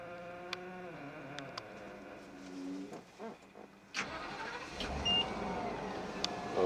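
A propane school bus engine cranks and catches after a slight delay, a low rumble that settles into a steady idle, heard close and alone.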